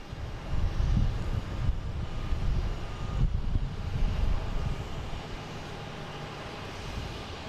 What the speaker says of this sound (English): Next taking off will be a JetBlue heading to London, an A321neo.